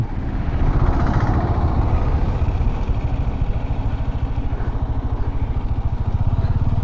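A Bajaj Dominar motorcycle rides along a road near the Chuttippara location, its engine throbbing steadily and loudly up close in a fast, even pulse that never stops, with no clear speech over it.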